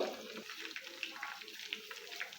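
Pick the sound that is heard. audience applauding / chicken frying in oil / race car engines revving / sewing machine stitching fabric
chicken frying in oil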